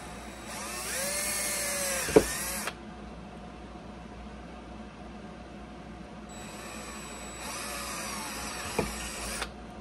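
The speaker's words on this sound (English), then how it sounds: "All right, let's go drill this." A power drill boring through a gun holster in two separate bursts, each a steady high whine lasting a couple of seconds and ending with a sharp catch, separated by a quieter pause, close and loud with no talking.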